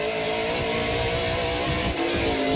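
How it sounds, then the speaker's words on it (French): NASCAR Pinty's race car engine screaming at high revs in an onboard view during a race, a loud continuous roar with a brief dip near the end and no voices. "On entend les régimes moteurs qui sont quand même passablement élevés."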